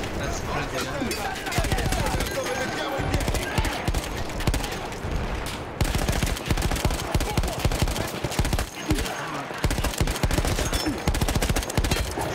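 Dense gunfire in Battlefield 1 hammers on continuously as rapid automatic bursts and overlapping shots, loud and nearly unbroken across twelve seconds, with a voice talking over it.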